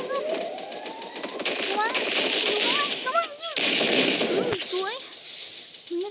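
Rapid bursts of gunfire from the Free Fire video game crackle in quick volleys, mixed with game effects, while a player talks excitedly over the action.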